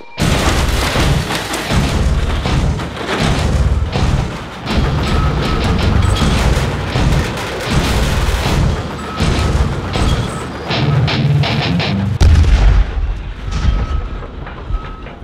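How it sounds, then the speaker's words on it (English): Loud, continuous heavy-machinery din with repeated metallic bangs, crunches and tearing sounds as an airplane is demolished, close and relentless throughout. "The loudness, the banging, the actual ripping apart of this beautiful machine."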